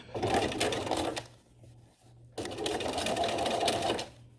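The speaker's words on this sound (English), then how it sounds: "I have a presser foot, a walking presser foot, and I'm just going with the top stitch" A sewing machine fitted with a walking presser foot runs a straight top stitch on drapery fabric, whirring loud and close in two long bursts with a brief pause between.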